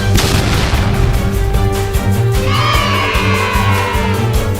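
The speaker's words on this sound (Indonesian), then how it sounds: "Aku akan menembak mereka dengan senjata roket ini." Rocket launcher firing at ghosts in a video game, heard as a loud, continuous barrage of booming blasts over a dense, rumbling game soundtrack, with no talk.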